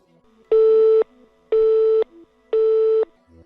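Telephone busy tone after a call is hung up: three evenly spaced steady beeps, each about half a second long, clear and prominent against near silence.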